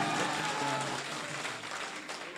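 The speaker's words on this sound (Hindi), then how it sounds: "आप एक बार सब लोग ताली बजा के बताइए कि आप अच्छा सुन रहे हैं" Applause from an audience at a college poetry gathering in Balrampur fills the space, a dense, loud, steady wash of many hands clapping that slowly thins toward the end.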